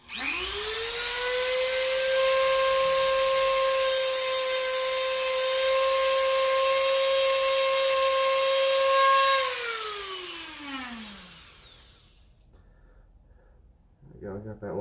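A Dremel rotary tool whines steadily at high pitch as it cuts a plastic dart mod piece flat, running loud and close for about nine seconds before spinning down and fading.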